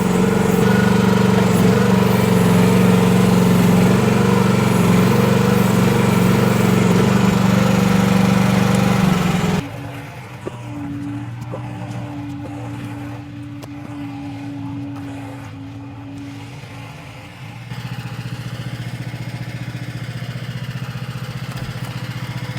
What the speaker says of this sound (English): And the engine is still running.